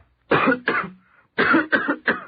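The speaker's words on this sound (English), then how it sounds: "You're coughing, son." Two harsh coughs, then a brief pause and three more in quick succession, close and loud.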